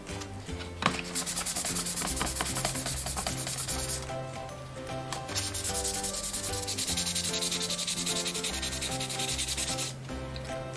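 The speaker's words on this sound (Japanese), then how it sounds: "もうちょっと細かいめの ヤスリで、ちょっとヤスリかけをしていきます。 800番ですね。" Steady back-and-forth rubbing of 800-grit sandpaper on a plastic RC car body, close and continuous, with background music playing throughout.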